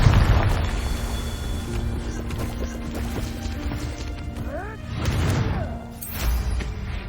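A Confringo fire spell explosion in the video game Hogwarts Legacy, loud crashing booms and smashing debris over continuous battle noise and rumble.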